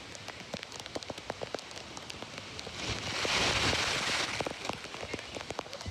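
The Dudhsagar waterfall gives a constant hissing rush of falling water, like heavy rain on rock, swelling louder for a second or two in the middle before settling back to a steady roar.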